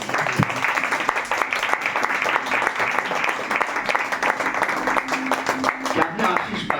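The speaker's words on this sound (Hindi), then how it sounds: "जोरदार ताली बजाएंगे" Loud, sustained applause from a church congregation at a special worship meeting, dense overlapping clapping that continues steadily throughout, with some voices mixed in.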